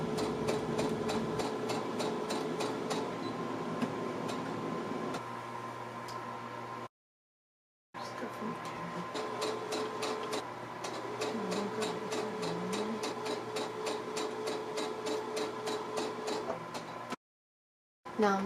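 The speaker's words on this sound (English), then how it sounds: "Now I'm sewing this skirt piece together." A sewing machine stitches a skirt panel together for a one-tier baby doll dress, a steady fast mechanical patter running continuously with two brief silent gaps.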